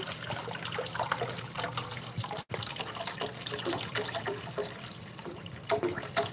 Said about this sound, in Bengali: প্রথমে আমি একটি চুলাই কড়াইয়ে পানি দিয়ে নিচ্ছি